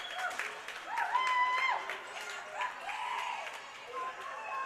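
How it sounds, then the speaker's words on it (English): A crowd cheers at the Mission Leisure Centre after a goal in a female U17 lacrosse championship game, a loud surge of shouts and whoops that rises, then settles into scattered yells. "The crowd comes alive here from the Mission Leisure Center."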